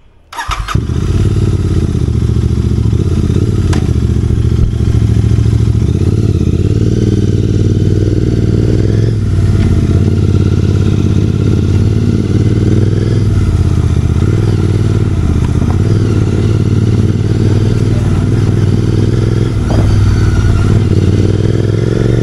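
A Royal Enfield GT 650 motorcycle fitted with a Gursewak exhaust rumbles loud and close in Kolkata, its deep idle swelling with occasional revs over a steady throaty drone for the whole stretch.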